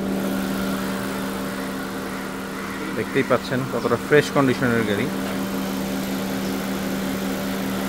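A black 2024 Honda CR-V with a 1500cc engine idles with a steady low hum throughout, while someone speaks over the middle stretch.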